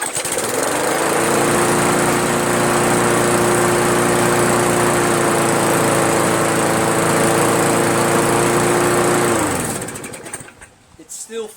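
A Craftsman push mower with a 158cc Briggs engine runs at a loud, steady, overly high rev for about nine seconds before cutting off, leaving brief faint rustling afterward.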